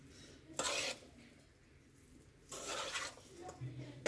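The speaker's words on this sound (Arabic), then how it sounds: "نخلط مزيان يبلي مع المايس" A spoon scrapes and clinks in a bowl as Ebly wheat is mixed with mayonnaise, in two bursts of stirring separated by a brief pause, close and moderately loud.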